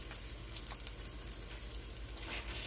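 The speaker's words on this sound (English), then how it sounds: "We coat our meat and sear it" Cornstarch-coated steak sears in a hot pan for Puerto Rican-style steak in salsa, giving a steady, close crackling sizzle with scattered pops throughout.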